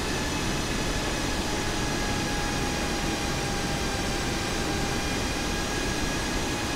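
An airliner taxiing to the gate at Abu Dhabi gives off a steady, unbroken jet-engine roar with a faint high whine. The sound stays even and close throughout, with no voices.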